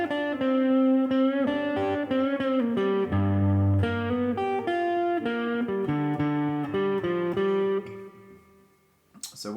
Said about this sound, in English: finish this solo by playing something a bit more normal for our fingers